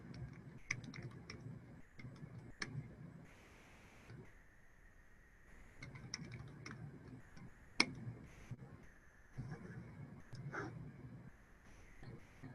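Quiet, sparse keystrokes on a computer keyboard as a password is entered, soft isolated clicks with short pauses between them and faint room hum, no talking.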